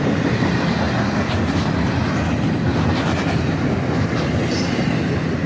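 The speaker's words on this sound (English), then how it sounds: "A single locomotive on the front gives us a nice horn show on this southbound intermodal train." A southbound CSX intermodal freight train led by a single locomotive roars past close by, a dense, unbroken rush of rumbling wheels and rattling cars, with no clear horn blast standing out.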